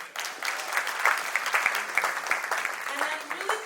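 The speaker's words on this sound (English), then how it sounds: "A big round of applause for him." Applause from a gala audience rolls through the hall, steady clapping of many hands mixed with a few sharp individual claps, while voices carry over it.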